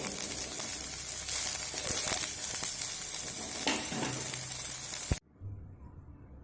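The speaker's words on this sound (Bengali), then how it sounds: "দেখুন দু মিনিট সয়াবিন আমি ভেজে নিয়েছি" Soybean chunks frying in hot oil give a dense, steady close sizzle with stirring scrapes for about five seconds, then stop abruptly into near silence with a faint hiss.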